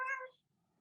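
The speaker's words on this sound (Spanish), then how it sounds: "Perdón por mi gato." One short, sharp meow from a pet cat, close to the mic, fading quickly into a quiet room.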